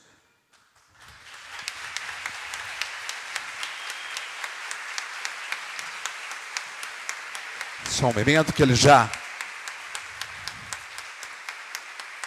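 A plenary hall audience applauds federal deputy Jefferson Campos at an honorary citizenship ceremony, with steady dense clapping for about eleven seconds and a voice speaking briefly over it near the end.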